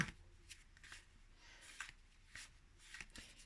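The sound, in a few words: closing a handmade pop-up greeting card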